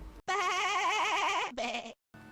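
A wooly sheep monster from Rune Factory 2 lets out a loud, wavering bleat, then a shorter second bleat, followed by quiet game background sound.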